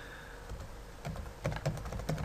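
Keys tapped on a computer keyboard while entering marketing search keywords, a loose run of light clicks that grows a little firmer toward the end, close by with no voices.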